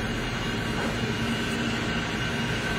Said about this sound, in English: Okay, here goes the train.